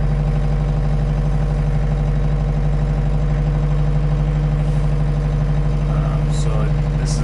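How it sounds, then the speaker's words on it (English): A Kubota-style B3350 tractor with hydrostatic transmission idles steadily, a constant low engine drone with a whining hum throughout, close and loud, with brief faint mechanical noises near the end. "this is the B3350. Again, this is just at an idle."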